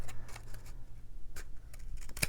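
Scissors cut glued cardstock in several quick, crisp snips and ticks close to the microphone, quiet and spaced irregularly, with no talking.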